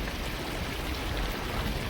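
Rainfall coming down as a soft, continuous hiss and patter of drops, moderately quiet and steady throughout, with no talking.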